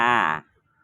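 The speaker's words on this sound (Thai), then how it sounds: "มีเสียงการ้องด้วย" A single harsh, drawn-out crow caw rings out loudly in Lumphini Park, Bangkok, then cuts off into near silence.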